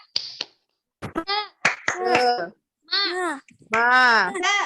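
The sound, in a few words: children doing a rhythmic 'tepuk semangat' clapping chant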